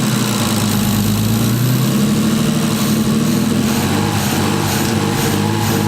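An RB20 engine idles loudly and steadily up close with its throttle body leaking, a constant low rumble with a slight shift in pitch partway through.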